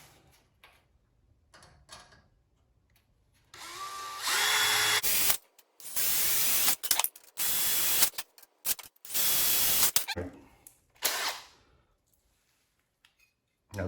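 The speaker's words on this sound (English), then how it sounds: "So let me get my small starter bit on this. We'll start these holes." A power drill fitted with a small starter bit boring holes in a metal motorcycle carrier, loud bursts of high whining drilling in several separate runs with quiet gaps and clicks between them.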